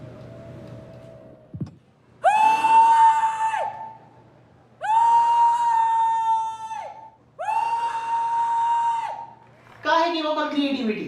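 An elderly woman on a singing competition show lets out long, loud, wailing screams in three sustained bursts separated by short pauses, followed by a higher warbling cry.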